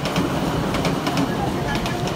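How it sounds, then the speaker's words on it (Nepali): A train in Japan rumbles past close by with a steady roar and faint rhythmic clacks of wheels on rails. "ट्रेन आयो ट्रेन ट्रेन ट्रेन हेर्न दगुरिरहेको"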